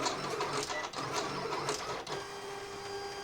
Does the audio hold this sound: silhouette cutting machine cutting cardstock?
yes